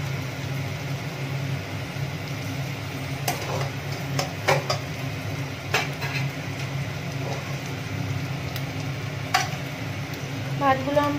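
Cooked rice goes a little at a time into a pan of fried rice, a steady low sizzle under scattered sharp scrapes and clinks of a spatula stirring against the metal, fairly quiet and close.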